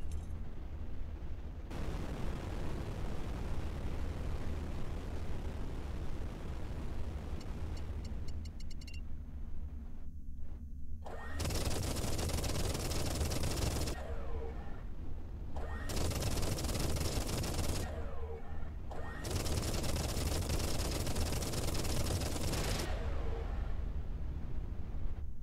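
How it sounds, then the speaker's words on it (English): Loud, dense bursts of explosions in the space shooter Everspace 2, several broadband blasts in quick succession over a steady rumbling engine bed, with no talk. "Satisfying explosions."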